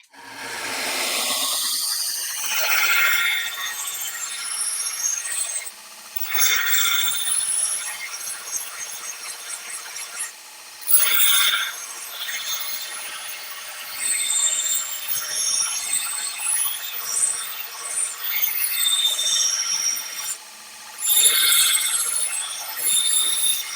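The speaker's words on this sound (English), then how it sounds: "you guys get to listen to the grinder for a little while" An angle grinder rough-grinding the bevels and fullers of a steel Viking Type 6 sword blade gives a high, shrill whine in long bursts, broken by short pauses as the grinder lifts off the steel.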